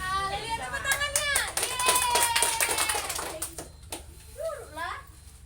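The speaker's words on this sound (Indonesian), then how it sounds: "Haleluya, tepuk tangannya." Children clap their hands in a quick burst of scattered claps mixed with excited young voices and a cheer, close by, fading as chatter continues.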